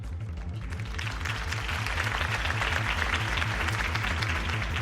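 A crowd at Harvey Dent's campaign rally in Batman: The Telltale Series claps steadily after his speech, the applause sustained over a rhythmic low pulsing music bed.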